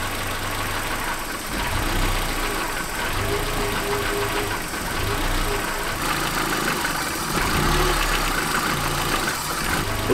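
A car engine idles steadily with a low, rumbling hum and faint knocking vibration during an engine mount check in a garage, heard close and continuous with no talk.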